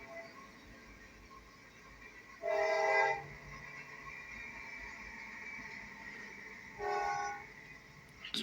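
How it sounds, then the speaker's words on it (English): A CPKC locomotive meets an NS freight train, sounding two loud horn blasts from fairly near over a steady rumble, the first around mid-clip and a shorter one near the end. "we got another train coming"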